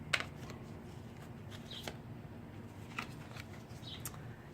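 Soft riffling and slapping of tarot cards being shuffled, quiet and close, with a few crisp flicks standing out over a low background hiss.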